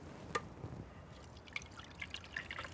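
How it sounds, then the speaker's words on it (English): Sparkly paper pulp water drips through a colander strainer set over a towel, a steady patter of small irregular drops with a few sharper plinks. "Now we're ready to pour it into our colander strainer once again"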